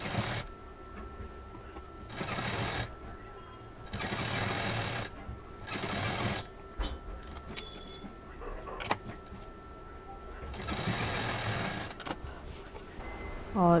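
A sewing machine stitches patchwork in several close, steady runs of buzzing motor and needle, each a second or two long, separated by quiet pauses with small handling clicks.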